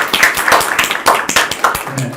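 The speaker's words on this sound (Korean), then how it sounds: "박수 부탁드리겠습니다." An audience breaks into quick, sharp clapping as a panelist is introduced at a Korean presidential election debate, with brief irregular applause close to the microphone.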